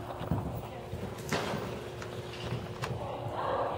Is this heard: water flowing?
no